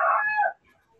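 A chicken crows and clucks close to the microphone during an online Zoom class, a loud harmonic call lasting about half a second and then trailing off into quiet.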